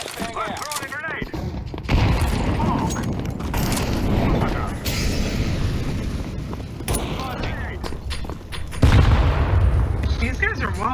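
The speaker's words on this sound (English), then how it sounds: "Flashbang out. Throwing a grenade." A flashbang grenade explodes in the game Counter-Strike 2, with heavy bursts amid rattling gunfire and in-game mechanisms. Voices talk briefly at the start and end.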